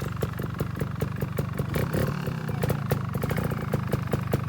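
A GasGas trials dirt bike rides over wooden poles, its engine putting out a close, steady, rapid clattering putter with slight throttle changes throughout.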